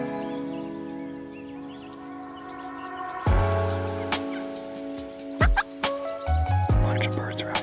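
Wild turkeys gobble from a field above a ridge around sunrise, several loud rattling gobbles bursting out in the second half against quiet early-morning background birdsong.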